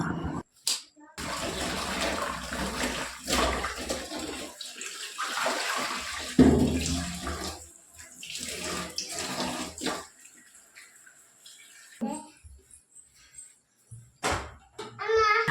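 Water poured into a pot of sweet potatoes splashes and gushes in irregular bursts, close by, with short pauses between pours.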